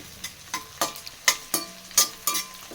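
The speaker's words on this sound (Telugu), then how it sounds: "ఆనియన్స్ వేసుకొని బాగా దోరగా వేగే వరకు వేపుకోవాలి." Onions and green chilies fry in a pan while a spoon stirs them in regular scraping strokes, about ten sharp scrapes over a faint background sizzle, close and clear with no talking.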